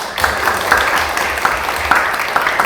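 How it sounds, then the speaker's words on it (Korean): Applause from an audience at a live Korean AI startup talk session, brief steady clapping that stays fairly loud throughout, with some faint talk mixed in. "박수 한번 부탁드리겠습니다"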